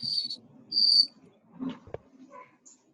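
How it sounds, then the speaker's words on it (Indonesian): A cricket chirps in short, high, buzzy bursts, two clear trills in succession, followed by a few soft knocks and faint scattered chirps in an otherwise quiet room. "Ada jangkriknya di mute dulu mungkin."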